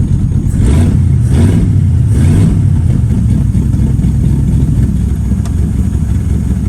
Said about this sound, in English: It's got exhaust cutouts.